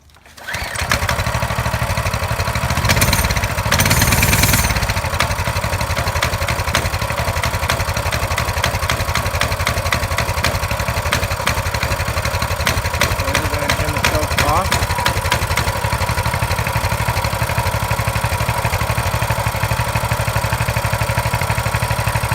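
A new Coleman CT200U minibike with a 200cc engine starts with a brief rev and then idles steadily, a close, loud, even putter. A person's voice comes in faintly about midway through.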